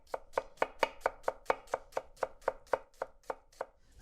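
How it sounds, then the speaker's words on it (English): A knife thinly slicing red onion on a cutting board, about sixteen crisp, evenly spaced chops in a steady quick rhythm, close up with no voices. "We're looking for about a half cup of red onion, thinly sliced."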